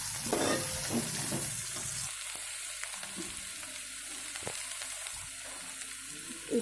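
Turmeric is stirred into a mutton curry base sizzling in a pan, with a spoon scraping and turning through frying oil, loud at first and then settling into a softer, steady sizzle.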